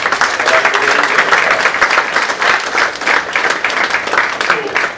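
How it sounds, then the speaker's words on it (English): A lecture audience at the Pune International Centre claps in a sustained round of applause, dense and fairly loud, with the clapping continuing steadily throughout. "give a round of applause for the students from that part of India called Northeast"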